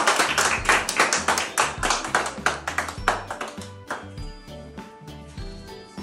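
Audience applauding at a surprise 15th birthday celebration for a daughter, a sustained burst of clapping over music with rhythmic bass and tinkling tones, fading slightly toward the end.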